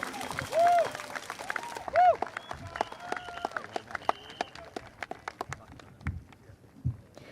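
A voice speaks at an outdoor political party rally for Marymount, then scattered, crisp claps from the crowd pick up and continue in an uneven patter that thins out toward the end.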